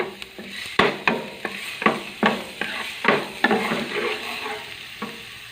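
Garlic sautés in a pan for afritada, crackling loudly up close while a spatula scrapes and stirs in a regular rhythm of strokes that slowly eases off.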